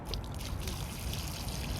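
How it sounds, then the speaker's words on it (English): Water poured onto a permeable paver block, soaking into the surface: a faint, steady trickle with soft splashing, continuous and quiet. "I'm going to just pour some water right on,"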